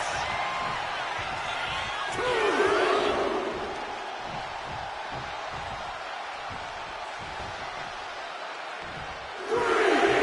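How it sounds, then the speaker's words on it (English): A wrestling arena crowd in WWE 2K25 roars steadily with swelling cheers and whoops, loud and continuous, with a commentator talking over it. "He wants his crowd on their feet. He wants them to make some noise."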